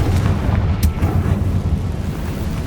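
In Hogwarts Legacy, a Confringo spell explodes with a deep rumbling boom that rolls on continuously, loud and bass-heavy, with a sharp crack near the start.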